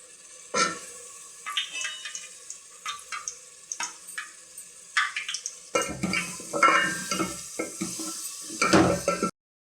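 A spoon is worked around a pan of sambar ingredients with drumstick and chilli powder, giving repeated close scrapes and metallic clinks in an uneven rhythm over a soft sizzle.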